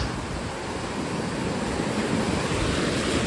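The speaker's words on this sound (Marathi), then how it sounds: "तो तेव्हा कसली म्हणून लाट आली बघ." Ocean waves surge and wash onto a beach in a loud, continuous roar, with wind buffeting the microphone throughout and no talk.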